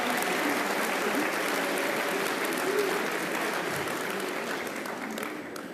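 Sustained applause from a student audience at a talk, a dense, even roar of many hands clapping that holds steady throughout and tapers slightly at the end.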